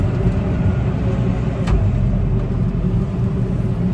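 A JCB Fastrac 4220 tractor on the move, heard as a steady, loud, low engine rumble and road drone that stays constant throughout with no talking.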